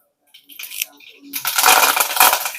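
Cumin and mustard seeds sputtering in hot oil, a few early pops building into a loud, dense, continuous crackle and sizzle close by, without speech.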